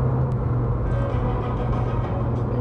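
Ferrari 458 Speciale engine heard from inside the cabin, a steady deep low rumble holding at a constant idle-like drone with no revving, loud and continuous throughout.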